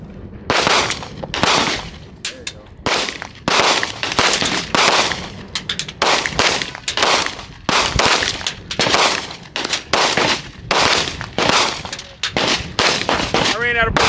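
Rapid bursts of gunfire crack out one after another at an outdoor shooting range, loud and close, repeating in quick volleys across the whole stretch with brief gaps between strings of shots.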